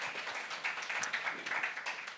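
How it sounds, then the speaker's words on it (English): A company meeting audience gives a short, fairly faint round of applause, with many hands clapping in a quick, uneven patter. "Huge round of applause"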